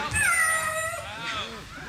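A cat meows with a drawn-out, wavering cry, close and fairly loud, over a low background rumble.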